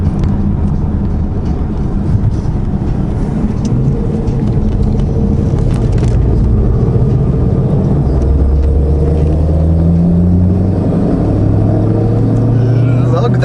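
A hot rod engine lugs low in gear with a deep, steady rumble that holds on throughout, loud and close, with long low drones rising and swelling from the middle onward.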